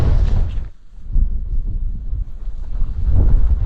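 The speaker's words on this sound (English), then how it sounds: "Wind's picked up quite a bit as well" Wind gusting across a Lake District campsite on a cloudy day, a loud steady rumbling roar buffeting the microphone, dipping briefly then surging back strongly.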